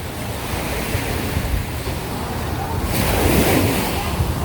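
Surf rolls in on Waikiki Beach, Hawaii, a loud, continuous wash of breaking waves with wind buffeting the microphone, swelling stronger toward the end.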